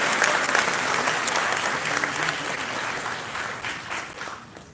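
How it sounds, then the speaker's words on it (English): Incoming students at an NC State University welcome gathering break into loud, sustained applause that starts strong and slowly tapers off, with many hands clapping at once and no speech. "Everybody give yourself a round of applause."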